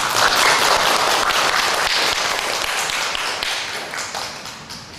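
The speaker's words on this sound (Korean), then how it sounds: "박수 한번 할까요?" A church audience claps together in dense, steady applause that slowly tapers off.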